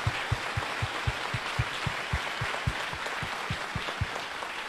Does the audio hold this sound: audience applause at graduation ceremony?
yes